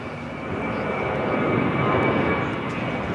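An airliner takes off from a runway at LAX, its engine roar building into a loud, steady, broadband rumble that holds strong across the whole stretch without any voices.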